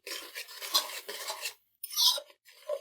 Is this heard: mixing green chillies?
yes